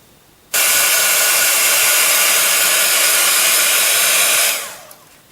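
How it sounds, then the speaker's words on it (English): A heat gun blasts a loud, steady roaring whoosh of hot air onto paint over clay, starting abruptly and holding for about four seconds before fading out, close and alone. "If you are going to be force drying the paint on top of the clay, then just be sure to hold the heat gun a little bit away from the clay"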